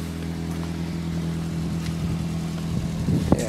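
A 2004 Pontiac Vibe engine idles after a cold start in winter, with an exhaust leak giving a steady, low droning hum with a ticking, puffing edge, running close and constant.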